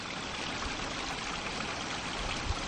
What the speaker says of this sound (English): you hear the sound of pretty strong running water